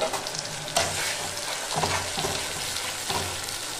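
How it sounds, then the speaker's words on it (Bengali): Ground paste of green chilli, dried red chilli and ginger fries with potatoes, a loud continuous sizzle broken by several scraping stirs of the spatula across the pan, with nobody talking. "এবার এই বাটা মশলাটাকে আমি এর মধ্যে দিয়ে কষিয়ে নেব"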